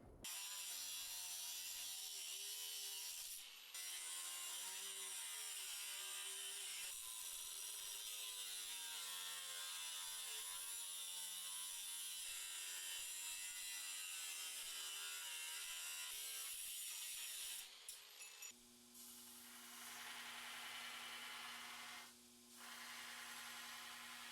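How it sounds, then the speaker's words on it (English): A Leatherman Signal replacement blade is ground on a power grinder. A loud, continuous abrasive roar with a shifting whine holds for most of the span, briefly broken off, then changes to a steadier tone near the end. "Here's what the blade looks like after the initial grinding."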